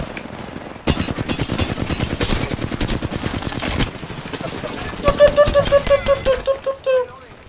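Rapid automatic gunfire from a weapon in the video game Apex Legends, a dense burst of loud shots followed by a short ringing tail, with a voice talking over the shooting.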